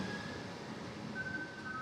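A regional passenger train on a line in Sicily runs on rails with a steady broadband rumble and faint high wheel squeal, heard from inside with no talk.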